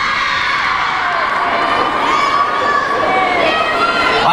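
A large crowd at the New Year Asia Fest 2017 festival screams and cheers continuously, loud and high-pitched, with many young voices shouting together as one sustained roar.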